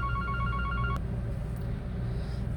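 A telephone rings in a phone-repair workshop with a steady series of electronic tones, cut off abruptly after about one second, over a constant low hum of background noise.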